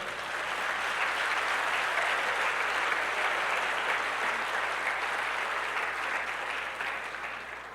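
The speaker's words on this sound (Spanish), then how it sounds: "Denle un aplauso al Señor" Church congregation applause rings out in a sustained, even wash of clapping, fairly distant and steady, fading slightly toward the end with no talk over it.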